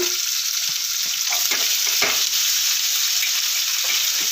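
Onions and a couple of dried red chillies sauté in hot oil for Pallipalayam chicken, giving a steady, close sizzle with a few soft scrapes of stirring and no voices.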